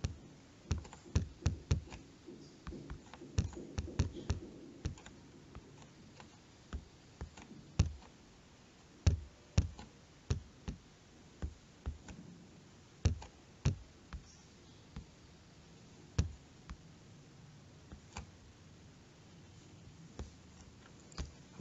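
Fingers tap out an email address on an Android phone touchscreen, making a long series of quiet, sharp clicks, quick clusters early on and then sparser, evenly spaced taps.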